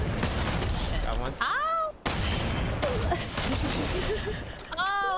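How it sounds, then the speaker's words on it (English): Rapid bursts of gunfire in a Fortnite match, crackling and repeating around the player, mixed with game effects and a brief dip in the middle, with players talking over it. "Oh, they're shooting at me."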